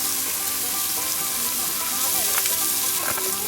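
Collard greens sizzle and fry in plenty of hot oil with red pepper flakes, a steady close crackling hiss that carries through the whole stretch with a few sharper pops near the end.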